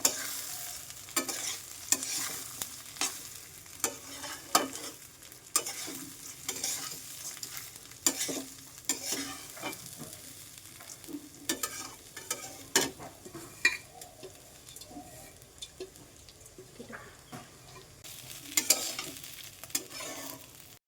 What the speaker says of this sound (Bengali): এখানে আমি চালটা খুব ভালোভাবে নাড়াচাড়া করে ভেজে নিয়েছি